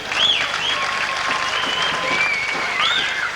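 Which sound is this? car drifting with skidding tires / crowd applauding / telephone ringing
crowd applauding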